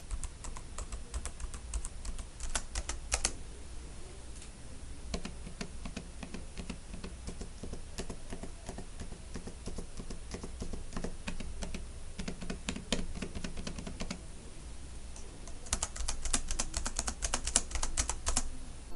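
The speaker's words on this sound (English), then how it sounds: "Now let's listen to the sounds on the keyboards, right?" Keys typed on a 2019 and a 2011 MacBook Pro 13-inch, a steady run of soft clicks with louder, denser bursts near the start and the end, close up and with no talk.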